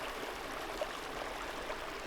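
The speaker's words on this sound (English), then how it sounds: "I've come to this little water source here. And the trail crosses over it right here." A small mountain stream flows across a hiking trail in the Pecos Wilderness, giving a steady, even rush of water that runs alone with no voices.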